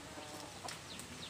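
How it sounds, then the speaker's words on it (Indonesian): A yellow hen with her two chicks makes soft, brief clucking and a few faint peeps, quiet and fairly close over low background noise, with no talking. "Ini ayam kuning ini anaknya cuma dua kawan."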